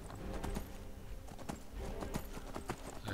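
Horse hooves galloping in an open-world video game, a fast, steady clip-clop rhythm of repeated sharp hoof strikes running throughout, loud and close over a busy background of game ambience and music.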